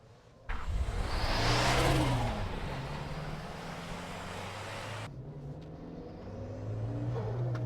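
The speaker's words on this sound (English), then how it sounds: "It's got the best turbo whistle I think I've ever heard on a car." A Suzuki Jimny with a turbo accelerates with a loud engine roar and a rising turbo whistle over it, then settles into a steady driving hum.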